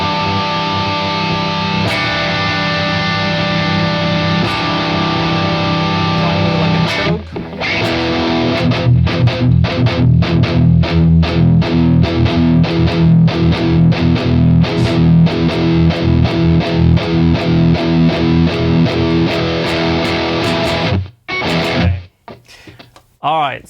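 Sustained, distorted electric guitar lead from the Lumos plugin with long ringing notes, fast picked runs and a roomy, reverberant ambience, loud and close before stopping abruptly.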